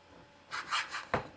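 A knife slices salami on a cutting board in a few quick, soft rasping strokes, close and faint, ending with one sharper cut.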